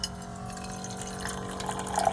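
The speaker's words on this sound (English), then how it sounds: "I'm gonna get some water in my cup over here" Water running into a cup inside a van during winter, a soft steady trickle with faint tonal resonance that swells slightly toward the end, fairly close and alone with no talking.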